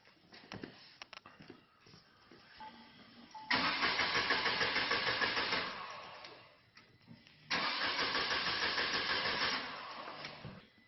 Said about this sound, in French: Une action démarrage, mais le moteur ne démarre pas.